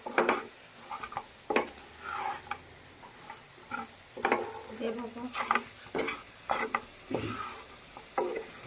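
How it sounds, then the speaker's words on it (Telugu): Chicken fry being stirred with masala in a pan, repeated scraping and clinking strokes of a spoon at an irregular rhythm over a faint sizzle, fairly quiet and close. "ఒకసారి తగినంత మసాలా వేసుకున్న తర్వాత కలుపుకుందాం ఒకసారి."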